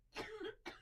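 A quick pair of coughs, fairly soft, the second shorter than the first.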